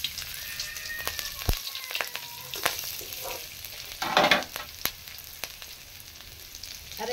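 Cloves, cardamom and cinnamon dropped into hot oil, crackling and sizzling up close with sharp pops and a brief louder flare of frying midway.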